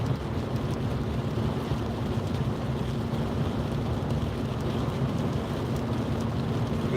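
Rain pours during a drive home on a motorway in wet conditions, a dense steady hiss and rumble of water and road noise filling the cabin continuously with no voices.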